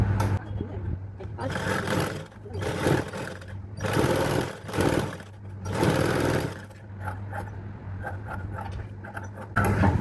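A sewing machine runs in bursts while stitching a princess-cut dress with a belt, its steady mechanical whir rising and falling with short pauses between runs, close and fairly loud with a low constant hum underneath.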